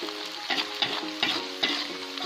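Shallots frying in a pan until crisp for a topping, a continuous sizzle with four or five distinct scraping stirs spaced roughly evenly, close and fairly loud, no talking.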